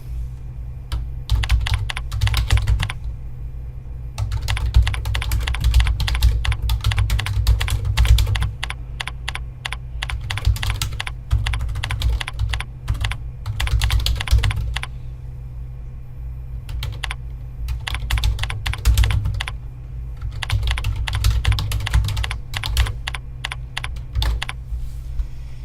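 Computer keyboard typing in bursts of rapid keystrokes separated by short pauses, steady and close, alone against a low hum, while entering job order details into an office form.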